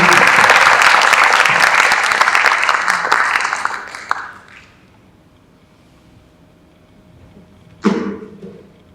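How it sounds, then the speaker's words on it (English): Audience applause for Nadine at an art exhibition talk, dense clapping for about four seconds that fades out, then a brief burst of noise near the end. "So a big round of applause."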